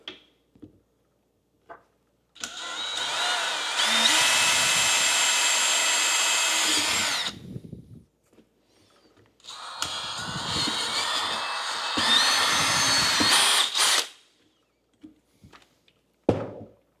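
DeWalt battery drill boring a 1/4 inch hole in two long, steady whining runs of several seconds each, close and loud, with clunks and handling knocks between and after.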